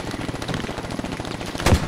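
Rapid automatic gunfire in the military shooter Squad, aimed at a helicopter, a dense continuous burst of shots with one heavier blast near the end, loud and close.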